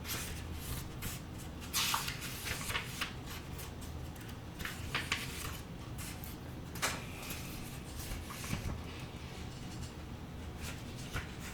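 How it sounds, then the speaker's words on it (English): Soft papery rustles and shuffles repeat across the stretch, like pages being turned and handled close by, with no talking. "I don't know how you guys feel about page turning."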